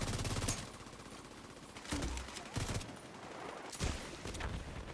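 Automated turret in The Division 2 firing rapid bursts, several loud rattling volleys separated by short pauses, with dense gunfire texture throughout.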